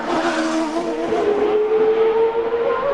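A CART race car, driven by Bruno Junqueira during 2002 Mexico City Saturday qualifying, accelerates onto a long straight toward the Foro Sol stadium section, its loud, close engine whine climbing steadily in pitch with no talk.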